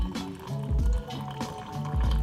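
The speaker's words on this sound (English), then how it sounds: "what we're going to do is add in, as I said, spring water, making sure we have enough spring water" Spring water poured from a kettle over about a teaspoon of loose tea leaves in a pot, a steady liquid fill with gurgling and rising pitch, close and moderately loud, no talking.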